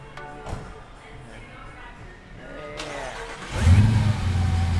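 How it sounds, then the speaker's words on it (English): A Jeep engine cranks over with faint background voices and noise, then catches near the end and rumbles into a loud, close idle. "can we crank up the Jeep?"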